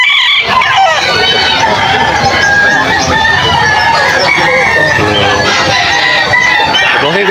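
A gamecock stag rooster clucks and crows loudly at close range, repeated calls over a busy backdrop with people talking.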